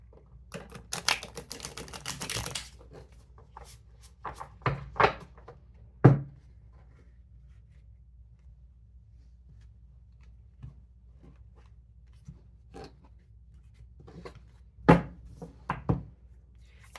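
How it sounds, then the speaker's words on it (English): Tarot cards being shuffled by hand make quiet, intermittent bursts of crisp snapping and flicking, with long near-silent pauses between the shuffles. "feel free to fast forward through the shuffling if you want."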